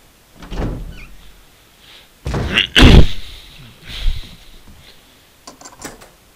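A sword key door opening in the Resident Evil HD video game, heard as a heavy wooden thunk and creaking swing with a loud slam in the middle, followed by a softer knock and faint clicks, close and with no voices.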